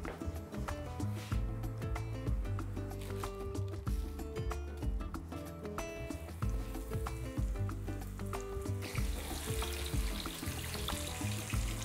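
Flour-dusted fish pieces fry in a pan of hot oil, a loud, steady close sizzle with crackling pops and occasional scraping stirs, with no talk throughout.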